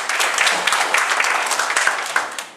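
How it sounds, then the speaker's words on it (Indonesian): An audience claps at a training opening ceremony for a small-business academy at Universitas Gajah Mada, the applause irregular and individually distinct, slowly thinning and fading toward the end. "Tepuk tangan untuk kita semua yang ada di sini."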